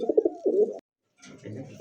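Pigeons of rare racer and show breeds cooing close by, two low throaty coos separated by a short silence, then softer murmuring under faint background noise.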